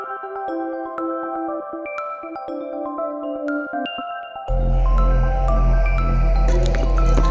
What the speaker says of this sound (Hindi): चलो पानी डालो सब में